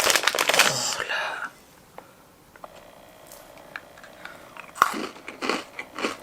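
Crunchy chocolate balls made with Colombian cocoa and a wafer biscuit centre are bitten and chewed close to the microphone, loud crunches at the start and again near the end with quieter chewing between.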